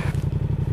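A 2018 Yamaha MT-07 motorcycle engine runs with a rapid, even throbbing pulse, a steady low rumble heard close and alone for under a second.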